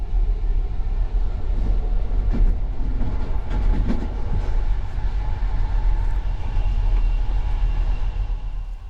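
Loud, steady rumble and rattle of the TLK Karkonosze sleeper train from Warsaw to Jelenia Gora, riding in an old East German carriage, with faint wheel clatter throughout and someone talking over it.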